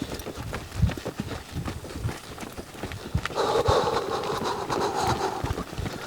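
Hooves of a reactive mare clip-clopping as she is asked to trot off under a rider, a steady near rhythm of footfalls with breathing or snorting noise rising midway.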